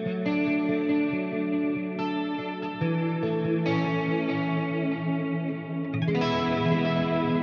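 An electric guitar runs through an eighties-style chorus preset on a Line 6 HX Stomp, ringing out sustained shimmering chords with a wide, warbling modulation and a touch of echo. Several strummed changes follow one another with no voices.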